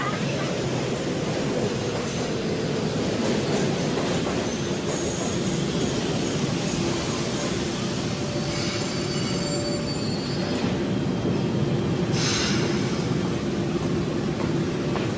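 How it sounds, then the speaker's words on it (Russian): Train arrival sound effect: a continuous loud rail rumble with clattering wagons and high wheel squeals rising toward the end, close and dense throughout. "На первый путь прибывает поезд."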